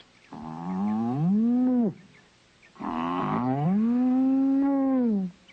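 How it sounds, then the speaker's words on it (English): A cartoon cow bellows two long, drawn-out moos with a short pause between them. The moos are clear and close, with no other sound. "Nobody's going to get my Lena, the only blue cheese cow in the world."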